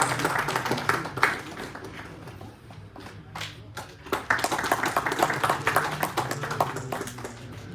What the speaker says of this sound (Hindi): बहुत बढ़िया, तालियां बजती रहनी चाहिए।